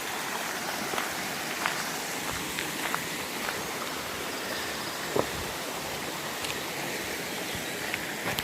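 Steady rain falls on a walking route near Saint-Privat-d'Allier, a continuous soft hiss with scattered louder drops and taps, outdoors and without speech.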